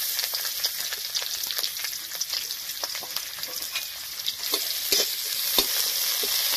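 Chopped onion and a bay leaf frying in oil for an egg and red lentil dish, a constant loud crackling sizzle with scattered spatula scrapes and pops, close up.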